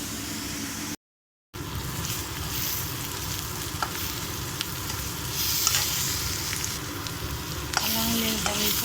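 Curry leaves frying in hot oil give a steady, close sizzle and crackle, broken by a brief silent gap, with a few light clinks of stirring near the end.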